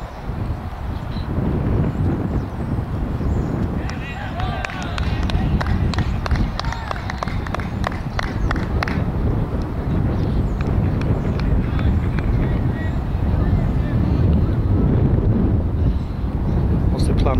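Wind buffets the microphone outdoors at a sports match, a constant low rumbling roar that persists throughout while people talk nearby.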